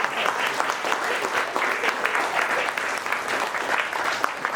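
Wedding guests applaud together in a dense, continuous patter of many hands clapping, loud and close, holding steady throughout with small swells.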